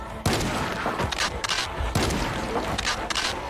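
Gunshots ring out in Project Zomboid: six loud, separate shots fired at an uneven pace, each with a sharp crack and a short tail.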